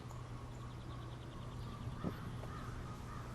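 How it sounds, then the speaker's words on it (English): A backyard chicken makes a strained, hoarse attempt at crowing, rising once briefly above a steady low hum and ambient noise in an urban garden; no talking. "it sounds like one of my chickens is trying to crow"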